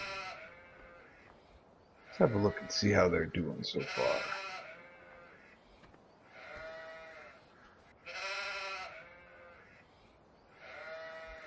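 Sheep in a pen bleat repeatedly in Farming Simulator 15, a cluster of loud overlapping calls early on followed by several separate bleats, with someone talking over part of it.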